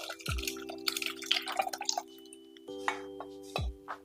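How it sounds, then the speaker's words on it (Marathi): Toor dal is poured into boiling tempered water with pumpkin for amti, splashing into a pot, with a couple of heavy plops and spoon clinks, close and fairly loud, no talking. "फोडणीच्या पाण्याला उकळी आलेली आहे हे डाळ टाकून घेऊयात"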